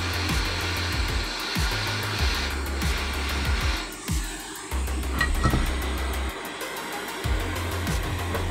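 A handheld heat gun blows hot air to shrink heat-shrink tubing over a repair, giving a steady, loud whooshing roar that dips briefly and then resumes.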